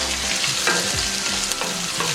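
Chopped shallots, ginger and green chili hit hot oil with mustard seeds and curry leaves for prawn theeyal, giving a dense continuous sizzle and crackle with a few spatula scrapes and taps, close and without voices.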